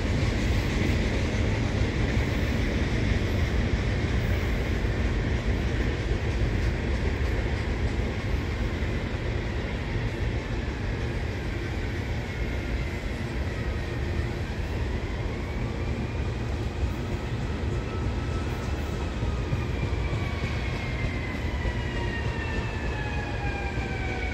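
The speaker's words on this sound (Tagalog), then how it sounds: "Yung train dito pala dadaan sa gilid." A train rolls past on tracks beside a flooded farm in Stanwood, Washington, a loud continuous rumble and rattle of wagons with a faint horn-like tone, steady throughout and close.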